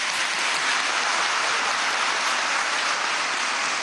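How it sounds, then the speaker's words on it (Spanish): Steady, dense applause from an audience at an event with the Venezuelan president marking two years of a humanized childbirth plan, a broad wash of clapping that holds evenly throughout with no talk. "Un aplauso para nuestra María Leona de Chávez."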